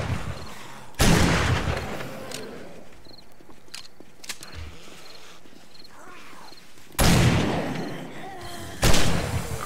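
Shotgun blasts in the zombie survival game 7 Days to Die during an Alpha 18 horde night: three loud, booming shots spaced several seconds apart, with quieter scuffling and clatter between them.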